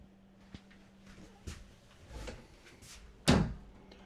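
A large closet door in a 2027 Sierra 3710HBFB fifth-wheel RV opens with a few soft knocks and bumps, then one sharp, loud thunk near the end, close by and with no talk.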